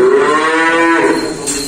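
A Simmental cow gives one long, loud, close moo with a steady voiced tone that wavers and fades toward the end, heard alone in a farm setting.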